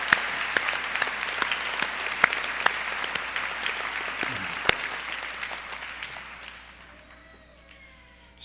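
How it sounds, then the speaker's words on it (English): Crowd applause at the 2025 Polaris High School graduation ceremony honoring teachers and staff, steady dense clapping with a few sharp claps standing out, tapering off after about six seconds into a quiet hall. "Let's give a huge round of applause to our teachers, faculty, staff"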